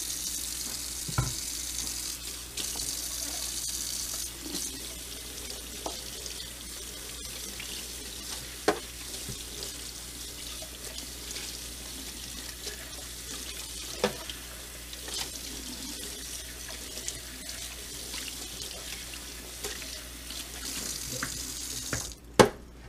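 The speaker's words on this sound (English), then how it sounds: "These bits I just rinse, because they're really not huge." Water running steadily from a kitchen tap while small Teavana Perfectea maker parts are rinsed, with occasional clicks and knocks of the plastic pieces against the sink and no voices.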